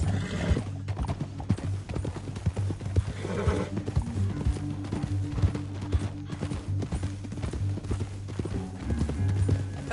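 Steady clip-clop of galloping hooves with an occasional horse whinny in the video game Red Dead Redemption 2, loud and close over a low rumbling backdrop.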